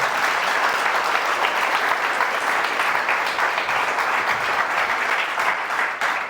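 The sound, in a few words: applause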